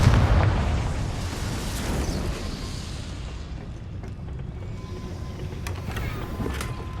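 The Confringo blasting spell goes off in Hogwarts Legacy as a loud, close explosive boom at the start, rolling into a rumbling decay that fades over several seconds beneath faint scattered game sounds.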